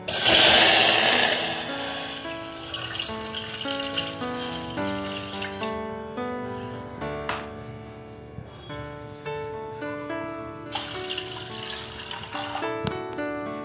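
Water pouring into a pan for spiced masala tea, a loud splashing rush at first that settles into a steady running trickle with ringing tonal overtones.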